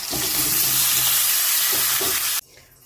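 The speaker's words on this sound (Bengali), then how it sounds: "ইঁচড়গুলো আছে সেগুলো সেমভাবে ভেজে নেওয়া হবে" Pieces of young jackfruit frying in hot oil, a steady loud sizzle with bubbling crackle that runs unbroken, then cuts off abruptly near the end leaving faint background.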